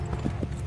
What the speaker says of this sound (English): Cab can only go as fast as the horse allows, sir.